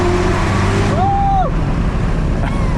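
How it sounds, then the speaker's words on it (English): A manual Corvette C7 Z06 drives through a tunnel at night, its engine a loud, steady, booming roar with a faint tonal whine rising and falling briefly partway through. "I am gonna tunnel blast though."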